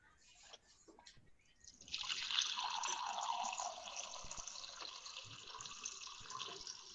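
Water runs from a tap in a steady, close hiss that starts after a few seconds of faint clatter and continues to the end, with no voices.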